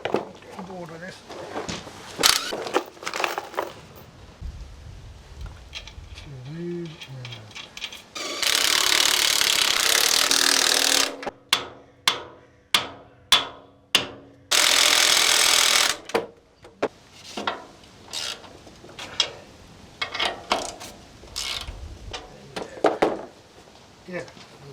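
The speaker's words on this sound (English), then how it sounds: "a deep socket and the impact driver" An impact driver with a deep socket works on a Series Land Rover during restoration, with loud sustained hammering bursts close by between clicks, clatter and repeated short blips, and someone talking in between.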